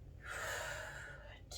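Soft, close breath during a yoga session, a single drawn-out airy inhale that swells and then fades, quiet and breathy with no other sound around it.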